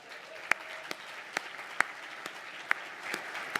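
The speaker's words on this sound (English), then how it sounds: "give me a round of applause to commit that we will beat last year's race" Gala crowd applauding at a charity fundraising event, a steady wash of clapping with a few sharp, distinct claps standing out near the microphone, moderately faint and without talk.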